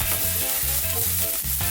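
Garlic and ginger stir-frying in a pan over high heat, with a steady loud sizzle and repeated tossing and scraping sounds in short rhythmic bursts, no voices.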